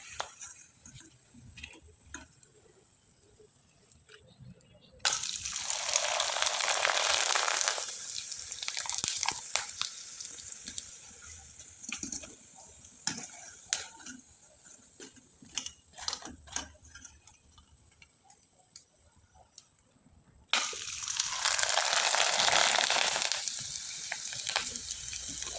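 Jackfruit seed chips fry in hot oil over a low flame, a steady sizzle that swells loudly in two bursts, likely as fresh batches go in, and eases to a softer crackle in between.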